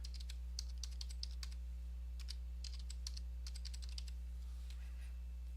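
Quick bursts of keystrokes on a computer keyboard as a new password is entered during router setup, irregular clicking over a steady low electrical hum.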